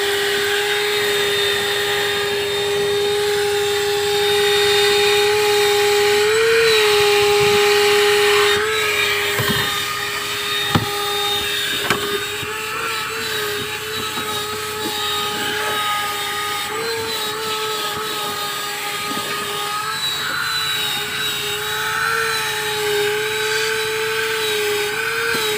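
A vacuum cleaner cleaning a car interior hums with a steady high-pitched whine throughout, with occasional knocks and clicks.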